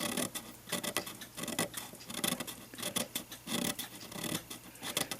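A hand file rasps in quick, even back-and-forth strokes against a brass part from a 1919 Gilbert mantel clock, close and fairly loud with no pauses.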